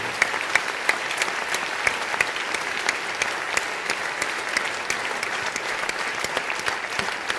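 An audience at a gala dinner applauds volunteers, a sustained, even round of clapping from a crowd heard at moderate distance for the full stretch, with a few sharper individual claps poking out.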